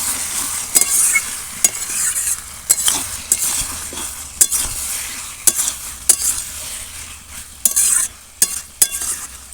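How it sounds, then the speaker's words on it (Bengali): A spoon stirs pumpkin stem curry cooked in fish oil around a pan as the last liquid dries off, giving repeated scraping strokes over a soft sizzle, close and steady with no talking. "এবার এই রসটা একদম শুকিয়ে যাওয়া পর্যন্ত আর একটু নাড়াচাড়া করে নিলে একদম রেডি হয়ে যাবে"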